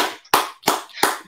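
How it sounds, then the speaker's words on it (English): Four loud, close hand claps in a slow, even rhythm, each a sharp smack followed by a brief ring, with nothing else around them. "Clap it up."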